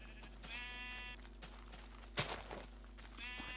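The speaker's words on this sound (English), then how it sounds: "Come back, you bloody sheep." Sheep in the Minecraft video game (Beta 1.8 pre-release) bleat twice, a few seconds apart, as short faint calls over a steady low game hum, with a brief thud between them.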